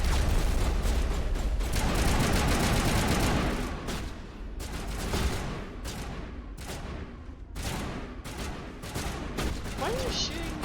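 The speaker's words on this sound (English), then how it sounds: "Why are you shooting the wall that I am standing behind?" Rapid automatic gunfire from the Mass Effect 1 video game, loud sustained bursts hammering against cover for several seconds, then thinning into scattered shots and mechanical clatter amid game noise.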